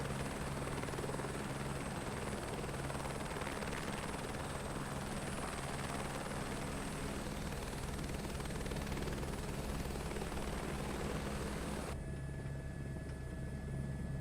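An aircraft flying at night in Microsoft Flight Simulator 2024 drones with a steady engine hum and rotor-like whir, even and continuous, with a faint tonal whine on top; the background shifts slightly near the end.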